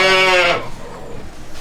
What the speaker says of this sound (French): on a hâte d'aller voir les brebis